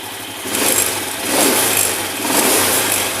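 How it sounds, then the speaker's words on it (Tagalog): A car engine runs steadily just after a gas treatment was added, revving up and settling back in loud, broad surges about a second apart, with no talking. "Gumagana pa yung makina natin, no? Tumatakbo pa siya."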